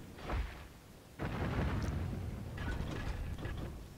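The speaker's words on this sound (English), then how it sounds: "you can kill them very easily with these cannons" Cannons fire in the PC video game Dragon's Dogma, two booming blasts with rumbling tails, the second longer and followed by continued crackling rumble, at moderate level with no speech.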